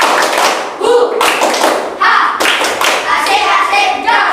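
Schoolchildren in a classroom repeat the tepuk semangat clapping game, with quick patterned bursts of group claps and taps at close range, voices chanting along and talking between bursts.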